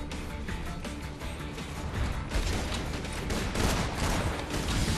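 Gunfire from snipers in the Borderlands 2 video game, a dense stretch of overlapping shots and impacts with several louder bursts building toward the end.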